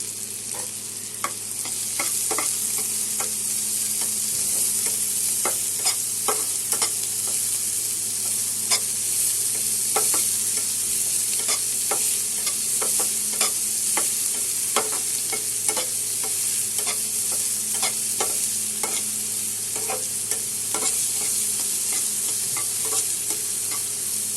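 Two chopped onions with a little salt sizzle steadily in a hot pan, a continuous frying hiss broken by repeated scrapes and clicks of stirring.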